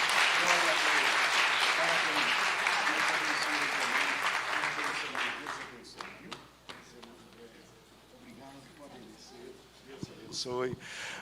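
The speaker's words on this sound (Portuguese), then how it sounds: "Louve o Senhor com uma salva de palmas." Church congregation applauding during an evening Portuguese-language service, a loud burst of many hands clapping that fades after several seconds into scattered claps and a voice speaking over the room.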